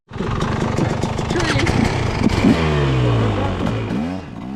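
Motorbike engine on a cold-weather woodland trail ride: a loud, close engine revs hard, then drops into a falling, sweeping pitch as the bike pulls away, with clattering mechanical noise throughout.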